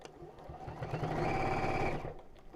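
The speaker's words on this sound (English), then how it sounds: "So as I'm sewing, I'm just pulling the lining away from the edge so the seam's right on the top." A sewing machine runs a lining seam in one continuous burst of rapid stitching, close and fairly quiet, rising and then slowing as it stops.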